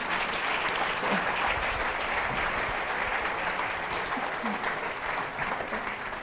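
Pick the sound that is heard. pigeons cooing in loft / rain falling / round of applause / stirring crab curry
round of applause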